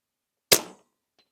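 A single sharp shot from a Brocock Sonoran .30 air rifle fired at a 100-yard target, close and loud with a quick decaying crack, then a faint distant tick.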